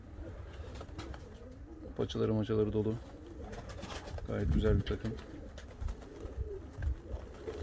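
Volski pigeons, a ready breeding team of hens, coo in a loose series of low, throaty calls near the microphone while someone talks over them.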